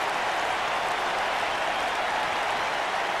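Arena crowd noise in the wrestling game WWE 2K22, a dense, steady roar of booing and jeering from a Newcastle audience, continuous and fairly loud throughout with no clear breaks.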